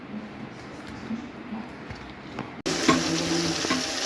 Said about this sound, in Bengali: রূপচাঁদা মাছটি তেলে ভেজে নিচ্ছি